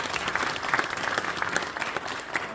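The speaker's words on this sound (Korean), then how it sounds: "우리 하나님께 영광의 박수 드리겠습니다" A church congregation at a Seoul Gangnam presbytery meeting claps together, a lively, dense round of applause with a few sharper individual claps standing out, fairly close and continuous.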